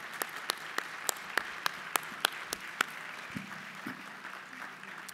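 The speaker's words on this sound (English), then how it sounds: "They deserve a round of applause." Sparse applause: a dozen or so distinct claps, fairly faint, tapering off after a few seconds with no talking.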